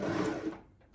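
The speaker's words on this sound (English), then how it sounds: "And that's how far you're going to sew along. Here we go." A sewing machine stitches a 1 cm seam, a short close whirring run that cuts off abruptly, followed by a faint click.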